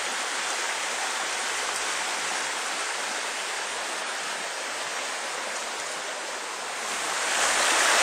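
Steady rushing of creek water flowing over rocks, a constant broadband wash that swells slightly near the end, with no voices.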